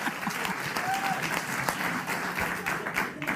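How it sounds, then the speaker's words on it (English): Studio audience applauding on a late-night television talk show, steady mid-level clapping filling the whole stretch without a break and without talk over it. "They're applauding that."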